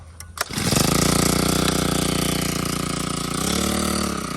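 A small engine on a new fodder-cutting machine sputters, catches after a couple of sharp pull-start bursts, then settles into a loud, steady, close-up running drone.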